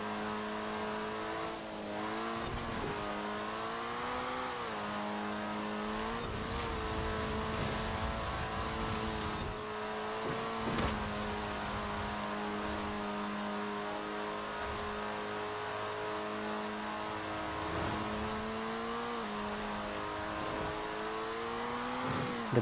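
Engine of a rear-wheel-drive race car in Forza Horizon 4 racing at full throttle, a steady loud whine with rising and falling revs and gear shifts across the run, no talk over it.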